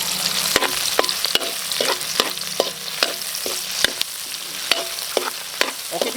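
Lao Gan Ma chili paste stir-fried in a pan, a steady loud sizzle broken by repeated sharp scrapes and clinks of a spatula against the metal, all close and without talk.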